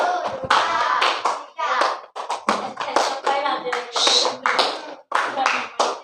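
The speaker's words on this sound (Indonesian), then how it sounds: "Kalau satu, tepuk tangan satu. Kalau dua, dua." Students in a classroom game clap their hands by count, single or double claps on cue, with a teacher's voice between them. The clapping comes in short bursts mixed with talk.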